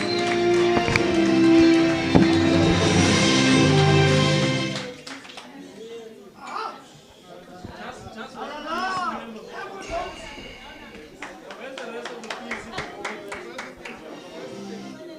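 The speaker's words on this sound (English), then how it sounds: "A round of applause for P4 West comrades." Applause for union branch comrades at a gala dinner, a loud burst of clapping and cheering with music at the start, then fading into scattered claps and lively chatter and talk in the hall.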